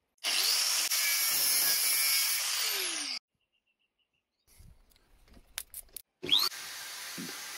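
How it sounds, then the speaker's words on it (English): A hand file held against the end of a spinning collar on a homemade geared-head drive gives a loud, steady rasping grind for about three seconds. Quiet clatter and brief scrapes follow, then the filing starts again. "By holding the file firmly up against the end of the collar as it spins, you can quite easily make the ends perfectly parallel like so."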